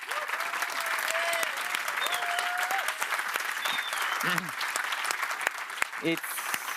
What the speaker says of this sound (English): Can we have a quick round of applause for all of them?